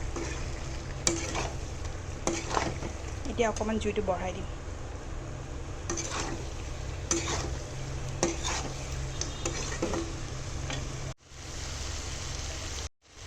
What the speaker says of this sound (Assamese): মই ল' ফ্লেমতে ভাজি আছোঁ মাংসখিনি